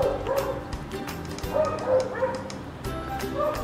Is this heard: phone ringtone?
no